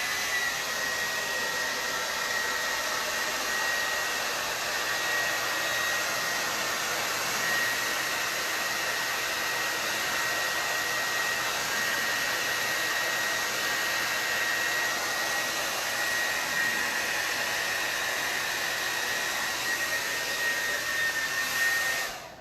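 A handheld hair dryer blows steadily on a glitter resin table top with metallic paint, a close, loud, unbroken whooshing hiss for over twenty seconds that cuts off abruptly at the end.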